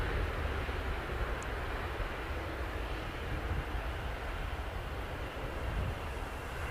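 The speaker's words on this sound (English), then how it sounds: "Reverse thrust in full effect." Airliner landing at Manchester Airport with reverse thrust engaged gives off a continuous broad jet roar that stays steady and even throughout, heard from some distance with no voices.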